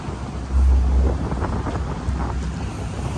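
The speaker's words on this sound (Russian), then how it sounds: "Волны как горы, тут не видно, конечно." Wind and waves at sea batter a sailboat on a passage from Vladivostok toward Okinawa. Loud gusts buffet the microphone and a constant rushing wash of water runs underneath, with no voices.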